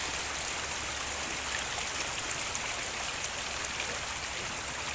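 Flood water flows steadily near a school, a dense continuous rushing wash with no pauses, moderately loud and heard alone without voices.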